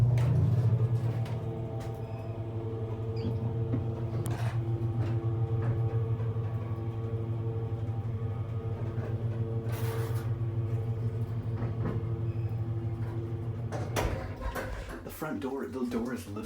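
A Hollister Whitney traction elevator descends with a steady low motor hum and rumble, punctuated by clicks and thumps, and ends with a door-like clatter; people talk faintly during the ride.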